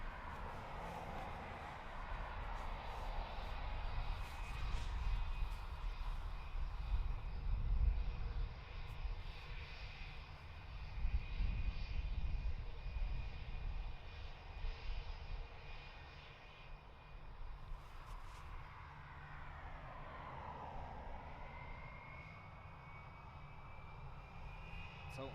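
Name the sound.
HiSky airliner departing Dublin Airport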